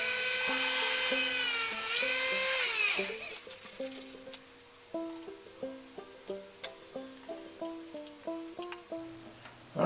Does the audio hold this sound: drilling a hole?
yes